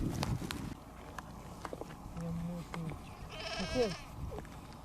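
Several sheep bleat nearby in wavering calls among footsteps and shuffling, with a louder quavering bleat near the end.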